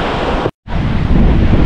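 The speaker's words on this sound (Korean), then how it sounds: "파도가 너무 세서 오늘은 스노클링 못할 것 같아요" Strong ocean waves at Tubod Beach, Siquijor, a loud continuous roar of surf with heavy wind buffeting the microphone, briefly cutting out before resuming.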